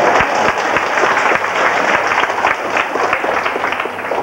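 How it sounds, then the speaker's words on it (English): Children at a 1986 Alberta school patrol banquet applaud themselves, a steady, lively crowd of clapping hands filling the hall throughout. "If you are, clap for yourself."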